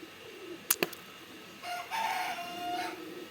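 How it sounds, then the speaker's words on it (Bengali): A rooster crows somewhere off at a moderate distance, one drawn-out, wavering call lasting over a second, preceded by a couple of sharp knocks in an otherwise quiet yard. "আমাদের মোরগটা ডাক দিল"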